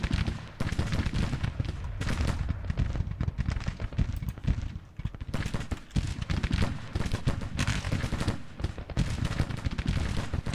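Massed musket volleys in Grand Tactician Civil War, with dense, continuous crackling gunfire rolling on and off across the whole stretch with short lulls, loud and battle-wide.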